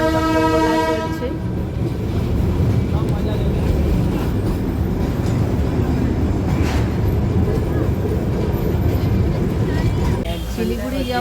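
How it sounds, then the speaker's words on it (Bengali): The Darjeeling toy train rolls slowly through a busy market, its horn sounding loudly at the start and again near the end over a steady, close rumble of the train's running noise and the market bustle. "বাজারের ভেতর দিয়ে যাচ্ছে টয় ট্রেন।"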